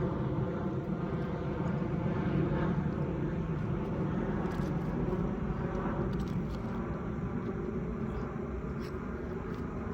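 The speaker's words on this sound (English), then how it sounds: "if you hear a lot of stuff in the background, it's the airplanes flying over" Steady, loud low-pitched roar of aircraft engines overhead, a continuous broad rumble with no pauses and no voices.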